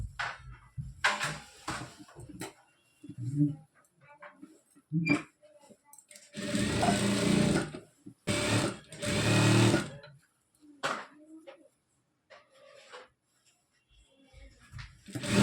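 A sewing machine runs in several bursts, stitching a full side seam on lehenga fabric, loud and close with short pauses between runs and faint handling noises in the gaps.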